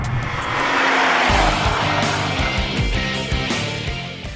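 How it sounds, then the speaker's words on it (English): A Subaru BRZ boxer engine revving freely, its loud droning note swelling and holding steady close by, with no voices over it. "it revs real freely, and it's a happy little engine"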